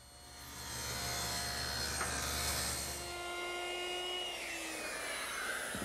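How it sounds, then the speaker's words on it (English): A table saw cuts a rabbet in wood for an armoire build, its motor whining steadily with a rising rasp as the blade works through the board, then the pitch winding down. "raise the blade, and finish making the rabbet."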